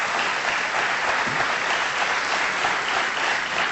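A studio audience at a televised debate on monarchy versus republic applauds in a dense, steady roar of clapping that stays even and loud throughout, with no break.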